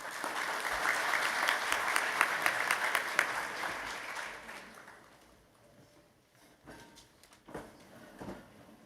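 An audience applauds at an admitted students day event, dense steady clapping from a crowd that fades out over several seconds into a few scattered claps.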